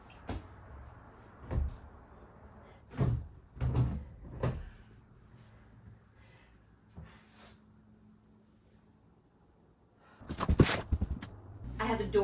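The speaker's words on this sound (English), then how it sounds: "I have the door set into place." A wooden back door being set into its new frame, giving several separate knocks and thumps with quiet gaps between them, ending in a louder cluster of bumps and clatter.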